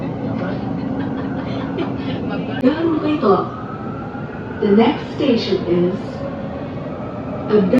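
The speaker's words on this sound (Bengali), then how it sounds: "এই প্রথম উঠছি মেট্রো রেলে" A steady rumbling ride aboard the Riyadh metro, with wheel and motor drone filling the background while voices talk over it at intervals.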